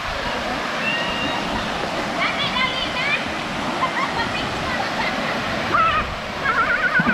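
Waterfall at Malingin Falls in Cortes, a steady broadband rush of falling water filling the whole clip, with people's voices and children's calls faintly over it.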